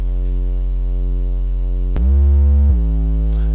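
A triangle-wave sub bass oscillator in the Propellerhead Reason synth, a deep sustained low tone with a faint buzzy edge that holds steady and then slides down into a lower note before settling, played alone and up close.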